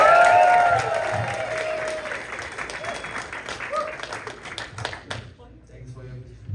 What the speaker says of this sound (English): Let's give a huge round of applause for Kunal Lalwani.